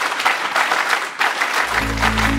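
A group claps together in an instructed counting pattern during a multicultural youth program: loud, fairly even bursts of clapping in a steady rhythm, ending as a low sustained tone comes in.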